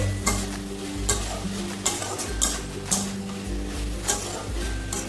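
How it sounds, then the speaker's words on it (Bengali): Banana flower curry with Gobindobhog rice, just dusted with cumin powder, is stirred in a pan. A low sizzle runs under regular clanking spatula strokes against the metal, about one every second, close and clear. "জিরের গুঁড়ো দিয়ে একটু নাড়াচাড়া দিয়ে"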